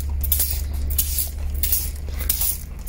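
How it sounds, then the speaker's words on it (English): Heavy duty degreaser sprayed from a regular spray bottle onto a car, a steady hissing mist with a few repeated pump bursts over a low constant rumble, close and fairly loud with no talking. "just spray it on."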